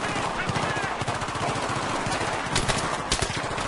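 Rapid repeated gunfire from the Battlefield 3 video game, loud, close bursts filling the whole clip alongside a busy battlefield din, with a voice talking faintly underneath.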